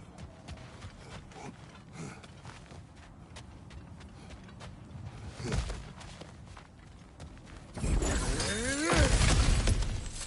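Cracked ground smashed open in God of War Ragnarök, a sharp crunching break midway followed by a heavier burst of crumbling, clattering debris near the end.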